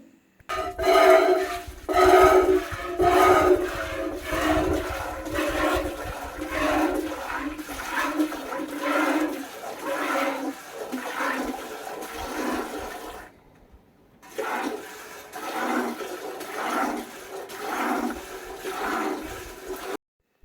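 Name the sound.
milk streaming into a bucket while hand-milking a cow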